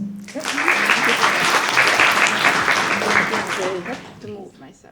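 An audience at a startup conference in Poland applauds a speaker taking the stage, dense clapping swelling in and holding steady, with voices mixed in before the clapping tapers off near the end.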